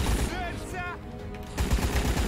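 Bursts of automatic gunfire in Rambo: The Video Game, dense loud rattling at the start and end with a short lull and a brief voiced sound between.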